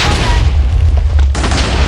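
Loud, continuous booming and rumbling blasts from Minecraft explosions, with dense crackling gunfire layered in.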